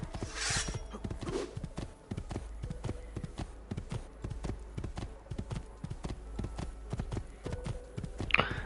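Steady clip-clop of horse hooves trotting on hard ground in the video game Assassin's Creed 2, a fast even rhythm with a brief neigh near the start.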